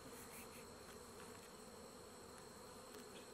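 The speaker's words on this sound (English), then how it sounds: "That right there is a mad bee." An angry honey bee buzzes near a hive, a continuous close, steady drone with no voices.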